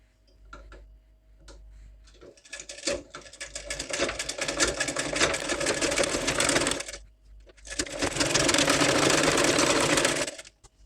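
A sewing machine runs a cover stitch along a blouse hem in two long bursts, a steady close rattling whir broken by a short pause, with a few light handling clicks before it starts.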